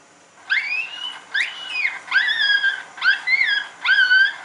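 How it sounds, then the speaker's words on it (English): A coyote pup call played from an Icotec 300 Gen 2 electronic predator call: five short, rising yips and whines in quick succession, clear and isolated with no other sounds. "the next one is the coyote pup."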